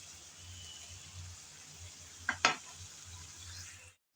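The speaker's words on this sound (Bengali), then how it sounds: "এখন দিয়ে দেব আগে থেকে ভেজে রাখা চিংড়ি।" Pre-fried prawns are tipped into watermelon rind frying in a pan: a faint, low sizzle with two quick clacks of ingredients and utensil close together, then stirring before the sound cuts off.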